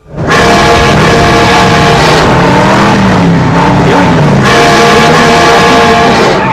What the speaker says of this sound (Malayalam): ഇവരുടെ കാറിൽ പിറകിൽ വന്നിട്ട് ഹോൺ അടിക്കുകയാണ് അതിന്റെ ശബ്ദം നമ്മളുടെ ചെവികൾക്ക് പോലും അരോചകരമായിട്ട് തോന്നും